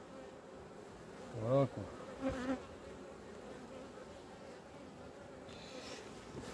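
Honeybees hum steadily around an open hive frame, a soft continuous buzz with a few louder passes of single bees near the ear, while a person speaks quietly nearby.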